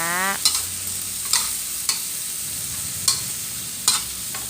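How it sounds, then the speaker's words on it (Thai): Green peas stir-fried in a pan give a soft, steady sizzle, with about five sharp scraping clatters of a spatula against the pan at irregular intervals. "ผัดถั่วรันเตาจนสุกเราถึงจะทำการปรุงเด้อค่ะ"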